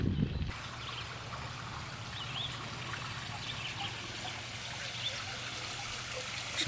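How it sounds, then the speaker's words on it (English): Groundwater seeping and trickling along the C&O Canal towpath near a lock house, a steady soft watery trickle with a low hum underneath, continuous and fairly faint throughout. "Some water seeping in, groundwater."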